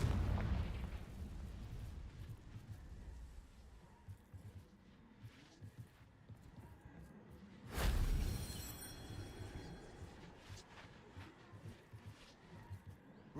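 Explosions from the Confringo spell in the Hogwarts Legacy video game rumble beneath a busy game soundscape, with one sharp, loud burst standing out midway before the noise settles back.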